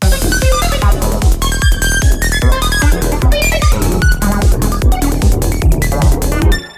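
A loud synthesizer line with sharp, resonant filter squelches pulses rhythmically over a thumping bass, then cuts off abruptly.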